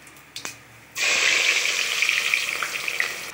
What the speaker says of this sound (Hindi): अब प्याज डालेंगे।